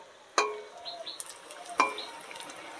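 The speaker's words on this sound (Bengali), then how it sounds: "এবার আস্তে করে পিঠটা ভাজা হোক, তারপরে উল্টে দেব" Prawn head fritters frying in hot oil in a village kitchen, a steady close sizzle with sharp spatters and clinks of a spoon or pan at intervals, no voices.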